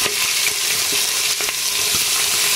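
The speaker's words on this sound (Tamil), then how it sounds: "பிரியாணி இலை, ஸ்பைசஸ்லாம் வந்து நல்லா வதங்கிருச்சு" Bay leaf and whole spices sautéing in a hot pan, a loud dense sizzle with a few light clicks of stirring throughout, no voices.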